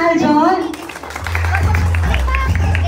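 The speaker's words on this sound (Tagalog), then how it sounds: "Wala tong sigaw palakpak lang." An audience at a KARJONiversary fan celebration claps for Team Aljon without cheering, a steady patter of many hands rising after a short spoken phrase over a low hum.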